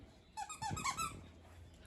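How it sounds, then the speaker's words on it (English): A squeaky dog toy is squeezed in a few quick, bright squeaks over a low background hum, close by, during dog training work with a reactive dog. "Squeak the toy and toss it."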